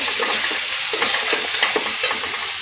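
Salted, turmeric-coated spices fry and sizzle steadily in a pan for a small-fish curry, with soft stirring scrapes over a constant hiss and no talking.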